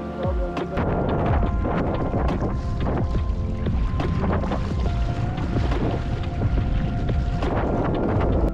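Strong stormy wind blows steadily across the water on a black bass fishing trip in Italy, a loud continuous roar buffeting the microphone with boat and wave noise underneath.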